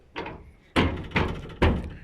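A Ford Escort panel van door under restoration thunks shut with a soft knock followed by three firm metallic latching clunks in quick succession, close and alone.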